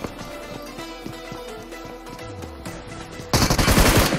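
Gunfire in the BGMI mobile game: rapid bursts of automatic weapon fire fill the clip, ending in a louder, denser close-range volley, with game music and no talk.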